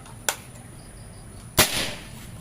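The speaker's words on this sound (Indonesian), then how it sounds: "Tembakan pertama" A sharp click precedes a single loud, close shot from a 30 cm mini bullpup air rifle at 3500 psi, about 1072 fps, with a quick hissing decay in a quiet space.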